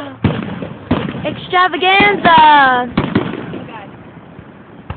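Fourth of July fireworks going off, with several sharp booms and crackling pops, and a whistling rocket rising in the middle, while people nearby talk and exclaim over them.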